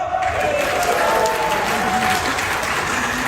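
An audience team at an internal auditors conference claps and cheers together, a dense, lively burst of crowd noise sustained throughout with scattered shouts rising above the clapping.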